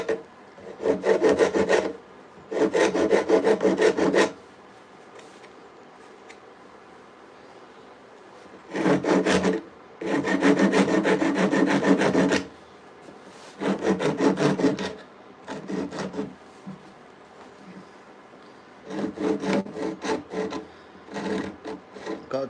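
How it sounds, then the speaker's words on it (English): A rasp filing a wooden handsaw handle in bursts of rough, scraping strokes, some long and some short, with brief pauses between them. The sound is near and clear with no talk. "this rasp is not messing around"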